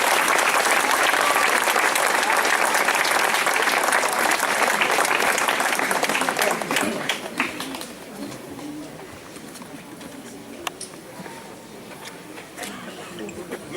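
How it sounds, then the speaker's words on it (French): A crowd at an outdoor commemorative gathering in Alfortville gives loud, dense, sustained applause. The clapping thins out after about six seconds into scattered claps and a quieter background, with some voices mixed in. "Merci de l'applaudir chaleureusement."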